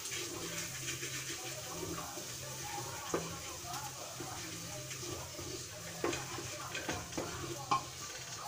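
Food with colorau fries and is stirred in a pan, a close, steady sizzle broken by occasional scraping knocks of the utensil against the pan, with faint background voices underneath.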